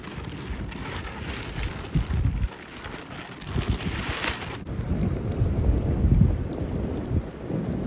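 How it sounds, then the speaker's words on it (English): Strong gusts blow across a lakeside campfire in Scotland, a continuous low, rumbling buffeting that swells and eases throughout, with no voices. "The wind's kicking off again, making the flames go sideways."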